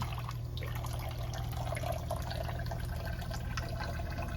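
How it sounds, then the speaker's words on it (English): A steady stream of product water flows and trickles out of a boat desalinator running at 65 bar, faint and continuous, under a low mechanical hum. "This is the product water coming out here."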